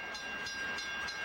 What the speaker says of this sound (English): You can hear the train's whistle and warning bells.